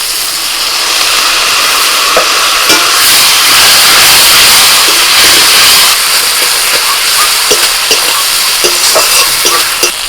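Spice masala with turmeric and Kashmiri chili powder fries loudly in a pan, a dense close sizzle and steamy hiss broken by repeated scrapes and clicks of a stirring spoon, with no voices.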